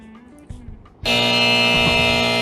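A loud, sustained game show buzzer signalling a wrong answer blares suddenly after a moment of quiet, harsh and steady until the end.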